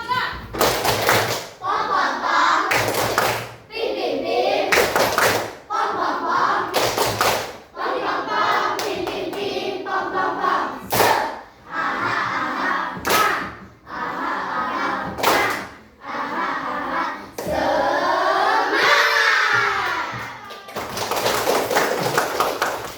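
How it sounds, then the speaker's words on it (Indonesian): Classroom group doing the tepuk semangat ice-breaking clapping game: bursts of rhythmic group clapping alternate with a teacher's spoken and chanted lines, close and fairly loud, several clap patterns repeating across the stretch. "Kita akan melakukan ice breaking tepuk semangat."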